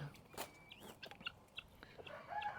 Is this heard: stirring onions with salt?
no